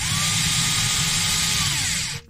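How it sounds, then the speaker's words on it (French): A power drill drives screws into a wooden block to fix a lamp in a camper van, a loud, steady whine running continuously for about two seconds before stopping abruptly. "On commence par visser ceux du bas histoire qu'ils calent bien le domino."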